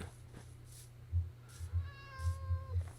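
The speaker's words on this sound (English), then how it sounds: "I hear cats, and there's a goat." Cats meowing in an abandoned video game village, a few short meows near and clear over a low droning background hum, with one longer drawn-out meow near the end.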